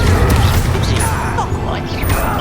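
Fiery Confringo spell explosion in the Hogwarts Legacy final boss fight, a loud continuous crash and rumbling boom with crackling debris, dense and close throughout.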